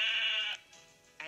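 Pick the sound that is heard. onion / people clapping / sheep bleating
sheep bleating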